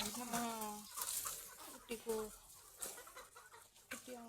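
Hens and chicks cluck nearby in short repeated calls, with a person speaking intermittently over them.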